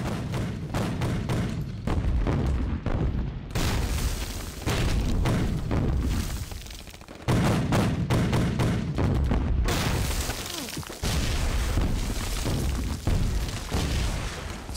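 Mortar shells burst again and again in a battle scene from a Chinese war drama, with heavy booms and thuds landing in irregular succession amid a constant din of gunfire and blasts.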